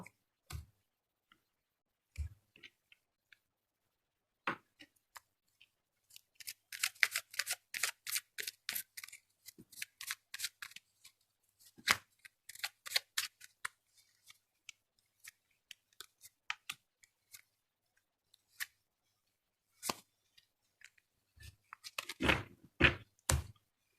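Tarot cards are shuffled and split into two piles on a table: sparse clicks and soft taps, then quick riffling bursts, and more taps and knocks toward the end, all close and quiet with no talk.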